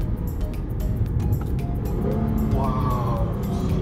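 A Lexus IS350 F Sport's engine drones steadily from inside the cabin over road rumble, then a rising engine note near the end as the car drops a gear.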